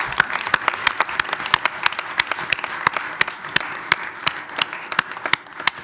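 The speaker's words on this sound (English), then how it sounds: "We'll give a round of applause" Scattered hand claps from a village board meeting audience honour youth baseball players, sounding as sharp, uneven individual claps over a low room murmur, with no voices.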